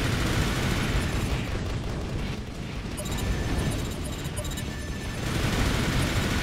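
A barrage of shoulder-mounted chain missiles exploding in the Armored Core: For Answer video game, a loud, sustained rumble of overlapping blasts and booms that swells, dips briefly, then surges again, with no talking.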